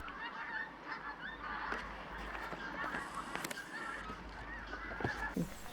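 Geese honk repeatedly in the distance near a railway line at Kirknewton, Scotland, scattered calls rising over a faint outdoor hum, with no talking.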